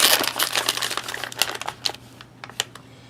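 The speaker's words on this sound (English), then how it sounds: "Just tear off the top part under the pouch." Crinkly plastic packaging of an MRE ration pouch is torn open and crumpled up close, a burst of dense rustling that thins into a few sharp crackles.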